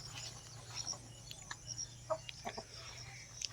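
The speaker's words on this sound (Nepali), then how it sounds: "त्यहाँनिर अर्को नि भाले छ" Chickens, a local rooster and a Lohmann rooster with hens, give faint, scattered clucks and short calls in a quiet outdoor farmyard.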